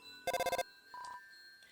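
A phone call to Papyrus in the video game Undertale opens with a short burst of bright electronic ringing pulses. A brief higher chime follows, clear and close, with no talking.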